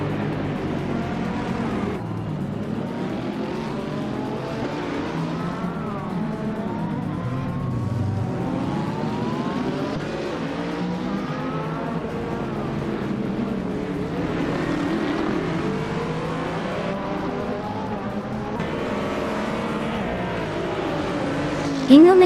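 Race cars in a game race drone steadily with rising and falling engine pitch, their harmonics sweeping up and down through repeated gear changes, loud and continuous throughout, ending in a brief sharp burst.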